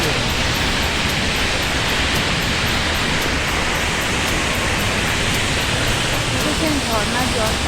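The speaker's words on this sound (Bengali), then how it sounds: "কীরকম জলটার আওয়াজ শুনুন আপনারা" Changey waterfall pours with a loud, constant roar of rushing water that fills every moment, a dense wash of noise close by, with a voice faintly showing near the end.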